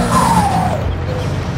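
A Hino 500 six-wheel dump truck hauling dirt on a hillside in Farming Simulator 22 brakes with a close, loud hiss and a falling squeal over its rumbling engine.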